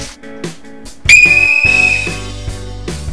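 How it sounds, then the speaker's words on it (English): A loud, shrill survival-kit whistle blast held for about a second, preceded by a few short knocks and handling noises. "Then they just give you like a straight up whistle."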